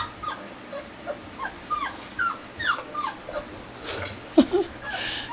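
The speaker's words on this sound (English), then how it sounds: "Hurley's watching more puppies on YouTube." Puppy whimpers, yips and soft whines come from a YouTube video playing nearby, rising and falling in short strained bursts over about five seconds with brief pauses between them.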